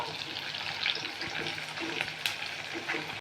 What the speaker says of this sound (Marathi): चांगले सात आठ मिनटं आपल्याला तेल छान उकळून घ्यायचे